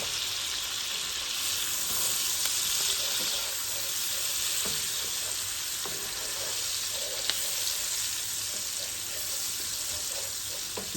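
A tablespoon of jarred garlic frying in a pan for a creamy penne and smoky sausage dish, a steady close sizzle and hiss with occasional small pops and clicks.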